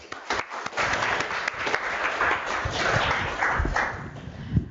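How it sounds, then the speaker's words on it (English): An audience claps for a speaker introduced before an astronomy lecture, a dense, steady wash of applause from many hands that holds for several seconds with no voices over it. "let's have a round of applause for Maria"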